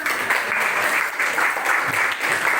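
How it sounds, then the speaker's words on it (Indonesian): A loud, dense round of applause from a classroom group after a student presentation on crafts made from waste materials, steady and continuous throughout with a faint voice underneath. "beri tepuk tangannya"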